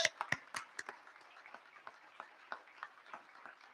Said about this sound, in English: let's give ourselves and one another a huge applause